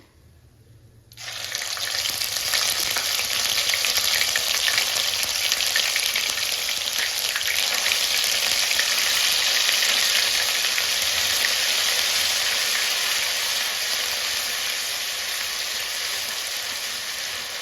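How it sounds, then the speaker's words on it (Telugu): Ginger garlic paste fries in hot oil on a stove turned to low flame, a loud, steady sizzle that bursts in after a second of quiet and crackles on without pause. "ఇప్పుడు స్టవ్ సిమ్లో పెట్టుకోవాలి ఫ్లేమ్ అడ్జస్ట్ చేసుకొని అల్లం వెల్లుల్లి పేస్ట్ ఫ్రై చేసుకోవాలి"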